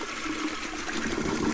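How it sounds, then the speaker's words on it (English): A toilet flushes in the horror game The Echo Paradox, a steady close rush of water swirling and gurgling throughout the short moment without any speech. "Can I flush your toilet?"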